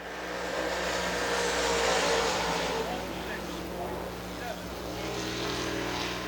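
A 525 Late Model race car laps Dixie Speedway during qualifying, its engine droning steadily as it circles the track, rising and easing slightly, under an announcer's voice.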